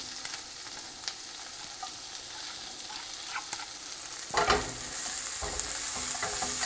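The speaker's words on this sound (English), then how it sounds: "Give that a quick stir." Chopped napa cabbage core frying in a pan, a steady sizzle that turns into louder scraping and crackling as it is stirred a few times toward the end.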